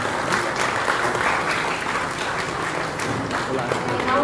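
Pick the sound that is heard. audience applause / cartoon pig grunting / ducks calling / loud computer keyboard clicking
audience applause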